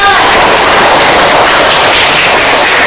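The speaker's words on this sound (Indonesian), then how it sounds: "Tepuk tangan dulu untuk kelompok 2." Classmates applaud group 2 after its presentation in a classroom: a very loud, harsh wash of many hands clapping at once, distorted and continuous throughout, with no distinct single claps.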